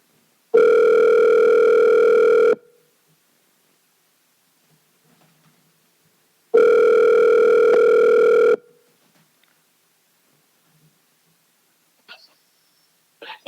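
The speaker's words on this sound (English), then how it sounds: "Pick up the phone, Dan." A telephone rings twice, each long electronic burst lasting about two seconds with a pause between, loud and close, followed by near silence and a faint click.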